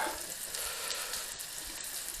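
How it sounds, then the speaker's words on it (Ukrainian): Steady, crackling sizzle of cucumber slices frying in oil in a pan over medium heat, close and continuous with no talking. "і обсмажуємо з обох сторін"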